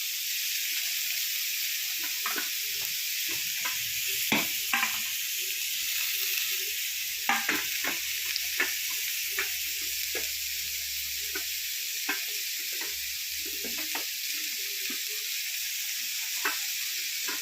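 Mushroom and onion frying in hot oil for a mushroom thoran, a steady loud sizzle running throughout with scattered clicks and scrapes of stirring.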